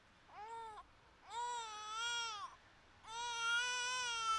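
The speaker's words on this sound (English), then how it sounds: "Or that could be the children crying." A played recording of a young child crying in three wailing bursts with strained, pitch-bending cries and short gaps between them, moderately loud with no talk over it.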